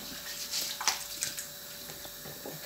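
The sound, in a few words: washing goat meat in water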